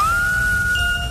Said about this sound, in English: We could do without the whistling.